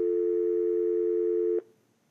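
A Panasonic KX-TGM450S cordless phone base plays a dial tone through its speakerphone. It is a steady, loud, close hum that holds for about a second and a half, then cuts off abruptly.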